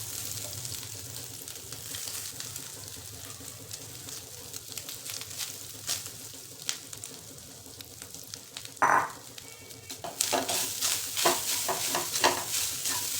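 Grated coconut with almonds and pistachios stir-frying in a pan, giving a steady close sizzle with scattered scraping and spatula clicks, a couple of sharper clatters near the end.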